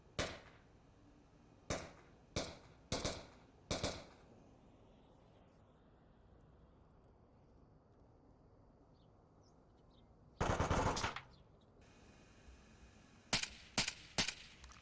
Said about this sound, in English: Skater picking up Hailfire in the center, confirming those shots.